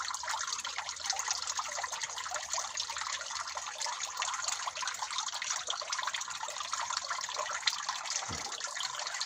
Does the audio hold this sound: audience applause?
no